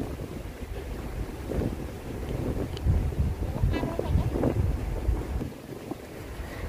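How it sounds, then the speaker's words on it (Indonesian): Strong wind buffets the microphone in a continuous roar, gusting up and down with a steady rumble underneath, at night among tall buildings in Hong Kong after a typhoon. "Anginnya masih kencang"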